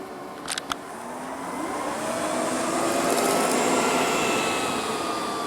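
An Ecovacs Deebot M81Pro robot vacuum running over carpet: a couple of faint clicks, then a steady whirring motor hum that swells and holds close by with a slowly shifting pitch.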